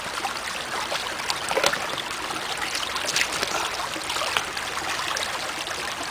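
Water swirls and sloshes steadily as gold concentrates are panned down in a plastic safety pan outdoors. It is a continuous, close trickling wash with small splashes and no voices.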